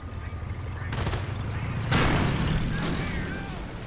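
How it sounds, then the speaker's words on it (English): Gewehr 43 rifles fired by Panzer Grenadier squads in a WWII strategy game, with several sharp volleys rising over a continuous battlefield din, the loudest burst near the middle. "Riflemen run off by one squad of Panzer Grenadiers with the mighty Gewehr 43."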